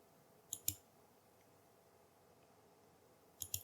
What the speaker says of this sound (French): je fais un clic droit